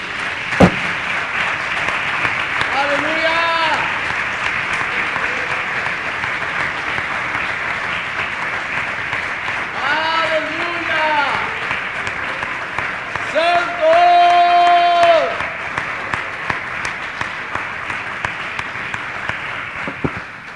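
A church congregation claps at length during a worship service, a dense, steady round of applause with voices and sung or spoken tones rising over it at intervals.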